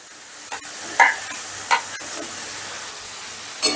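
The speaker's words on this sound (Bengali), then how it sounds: "এবারে আলুগুলোকেও মশলার সাথে বেশ কিছুক্ষণ, ধরো 3 থেকে 4 মিনিটের মতন কষে নেব।" Fried potatoes being stirred into a spice masala for a pangas fish kosha, with a steady background sizzle and a few sharp spoon scrapes against the pan.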